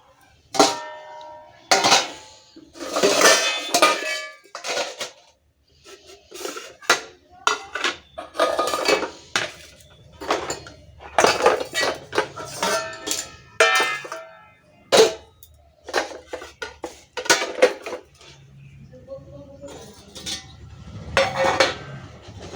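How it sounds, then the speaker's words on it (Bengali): Dishes are washed at a sink basin, with loud clattering of plates, pots and cutlery coming in irregular bursts, close by and continuous for most of the stretch. "আর এখানে আরও বেসিনের বাসন জড়ো হয়ে আছে এগুলো এখন ধুয়ে এখানে উপর করে দেবো"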